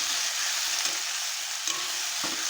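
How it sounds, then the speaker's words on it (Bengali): A masala paste of green chili, ginger and cumin fries over softened tomatoes for a thin katla fish curry, a steady bright sizzle with a couple of faint stirring taps, nearby and unbroken. "এখন মশলা দিয়ে খুব ভালো করে কষিয়ে নেব।"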